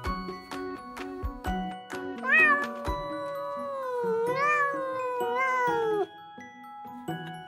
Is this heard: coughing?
no